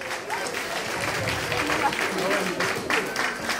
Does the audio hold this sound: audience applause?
yes